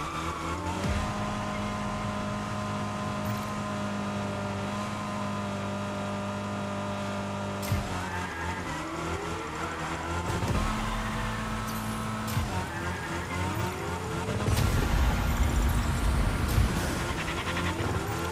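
Car engine revving in the Rocket Racing video game, loud racing engine tones rising and falling through repeated gear shifts, with tire squeals and bumps near the end, no talk.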